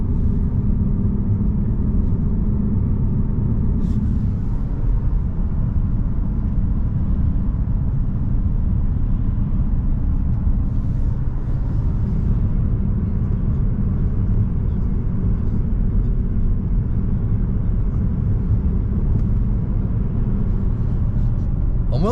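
Steady low rumble of a car's cabin while driving on the road, continuous road and engine noise throughout with no clear events, fairly loud and even.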